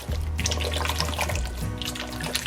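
Water poured into a pot of rice cooked with coconut milk, a steady close splashing stream running the whole time with no talk.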